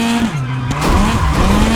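Rally car from WRC Generations driving hard on a narrow stage with hairpins and a bridge, engine droning steadily with sliding tire noise and skidding throughout, loud and continuous.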